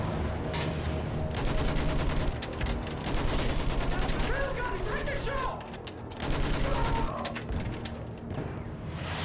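Battlefield 1 gunfire on a World War I battlefield: dense, continuous rifle and machine-gun bursts crackle loudly throughout, with mechanical clatter and scattered crashes in a chaotic firefight.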